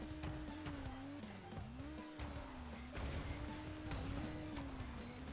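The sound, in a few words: kart engine humming like a vacuum cleaner, Crash Team Racing video game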